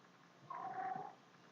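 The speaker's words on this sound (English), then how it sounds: "while I'm recording, my cat is deciding to have a chat with something." A pet cat makes a single short chattering, trilling call of about half a second, faint and alone against quiet background noise.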